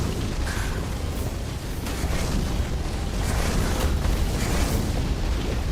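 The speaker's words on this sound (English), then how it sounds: "shield's not helping you from explosions from the ground" Video game explosions from the ground in Tainted Grail, a dense rumbling roar of blasts and debris that stays loud and continuous throughout, with bursts layered over one another.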